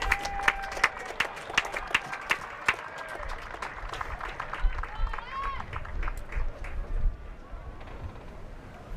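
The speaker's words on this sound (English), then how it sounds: "Let's give these two legends of Queensland for a round of applause" A crowd at a Queensland Australian football grand final claps and cheers for two state legends, a broad spread of applause with sharp individual claps, while a voice talks over it.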